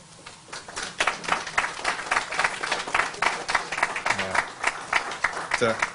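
Audience at a Rochester affordable housing press conference breaking into applause, a brisk wave of many overlapping claps of moderate loudness, with voices talking underneath.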